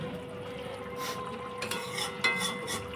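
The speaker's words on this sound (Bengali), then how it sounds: "একটু ভালো করে নাড়াচাড়া করে নিচ্ছে মা কারণ ভেতরে ভালো করে মশলাটা যাতে ঢুকে যায় পটলে" Stuffed pointed gourd (potol) curry gets turned and stirred in a pan, soft scraping and shuffling over a low simmering bubble, with a few brief louder scrapes, close and without talk.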